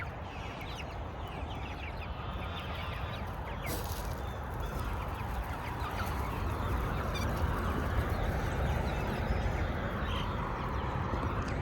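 Chickens cluck and chatter over a constant low outdoor rumble, with scattered calls from several birds nearby and no talking.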